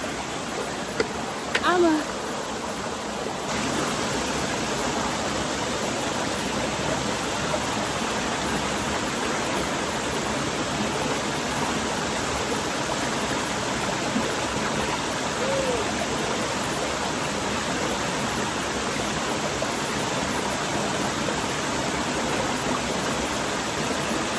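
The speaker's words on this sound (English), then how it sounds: "we're here at the river." A country river in Jamaica rushes in a steady, loud broadband wash close by, with a few brief sounds near the start before the flow continues alone.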